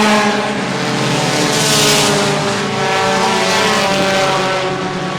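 Race cars in a 20-lap front-wheel-drive B feature roar at full throttle just after a green-flag restart, loud and close, with engine notes overlapping and one car swelling past around the middle.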